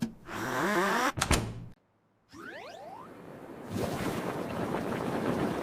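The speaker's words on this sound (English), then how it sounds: "The fan will dry the bubbles." A cartoon electric fan blows, with a few swishing whooshes followed by a steady, rushing airflow that continues on its own with no talking.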